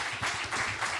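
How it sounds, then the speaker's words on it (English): Brief burst of audience applause for a panel at a digital public infrastructure event, a soft, somewhat distant wash of clapping lasting about a second. "let's have a great round of applause for our"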